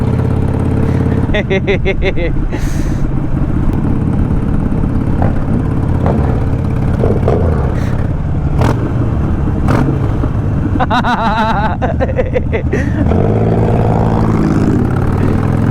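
A 2.3 litre motorcycle engine revs loudly and steadily throughout, with rising and falling throttle blips and a deep rumbling exhaust note, close by and outdoors.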